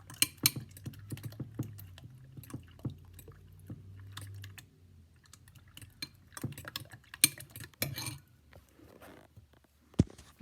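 A fork mixes eggs in a bowl, giving sparse, irregular light clicks and taps over a faint low hum. Quieter scraping sounds fall between the clicks, and there is no talking.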